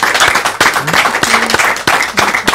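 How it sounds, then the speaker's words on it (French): A studio audience at an educational television broadcast claps and applauds, loud and close, with sustained dense clapping and a voice faintly under it. "On l'applaudit très très très fort."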